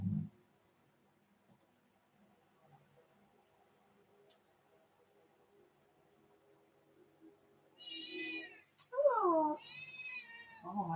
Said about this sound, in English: Oh, my cat's almost screaming at me now.